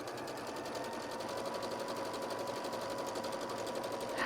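A sewing machine running a decorative stitch whirs steadily and evenly at close range for several seconds, a smooth continuous motor hum with a fast needle pulse and no speech.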